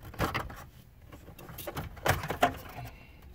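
Plastic radio panel being pried loose from the dashboard of a 2013 Ford C-Max, a run of scattered clicks and creaks with two sharper snaps of the clips releasing, close up.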